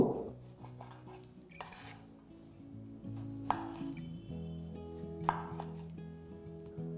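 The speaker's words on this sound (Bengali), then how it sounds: "টমেটোগুলোকে আমি এইভাবে মাঝখান থেকে 1/4 করে কেটে নেব" A knife quartering four tomatoes for a dhaba-style egg curry paste, a few distinct clunks of the blade striking the board spaced seconds apart, mixed with light clinks of utensils and dishes close by, no talking.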